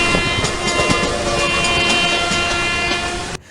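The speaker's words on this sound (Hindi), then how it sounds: "जो ट्रेन का ड्राइवर होता है वो काफी तेजी से हॉर्न बजाने लगते" An Indian Railways train horn blows loud and continuous over rumbling rail noise for several seconds, its steady tones cutting off abruptly near the end.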